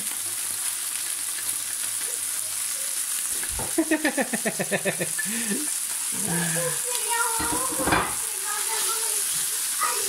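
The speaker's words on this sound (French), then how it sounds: "on a laissé un peu de place sur le côté pour cuire les légumes" Onion with green and red peppers frying in a pan, a steady close sizzle with occasional stirring scrapes and clatter.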